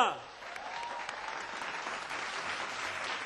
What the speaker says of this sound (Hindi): एक बार ख्याली के लिए जोरदार तालियां